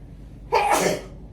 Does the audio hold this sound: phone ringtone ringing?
no